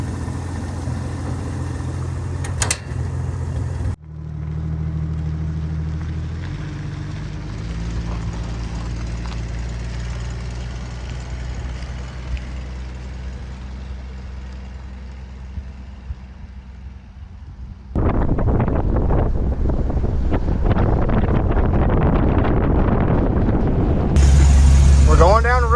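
A Ford Falcon being revived after sitting runs and drives slowly down the road, its engine a steady low hum with wind rushing across the microphone, then growing louder and rougher near the end.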